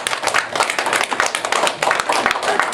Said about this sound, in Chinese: 我们以热烈掌声给我们的老会长